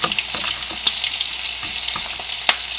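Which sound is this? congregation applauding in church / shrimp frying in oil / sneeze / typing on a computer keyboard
shrimp frying in oil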